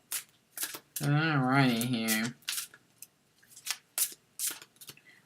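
Tarot cards riffle and snap in quick bursts of shuffling, close and crisp, interrupted by a brief spoken phrase.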